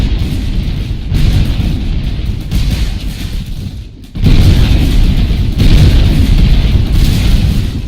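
Cannon fire in a Gettysburg Civil War battle video game: dense, loud, continuous rumbling booms that dip briefly around the midpoint, then surge back even heavier, with no talk.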